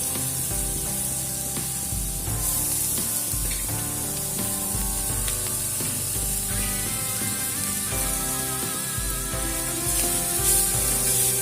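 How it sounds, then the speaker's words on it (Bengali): Grated cauliflower with spices frying in a pan over a high flame gives a steady hiss and sizzle with light stirring scrapes throughout, close and continuous with no talk. "গ্যাসের ফ্লেমটা এবারে হাইতে রেখে ভালো করে ফুলকপিটাকে নাড়াচাড়া করে ভেজে নেব।"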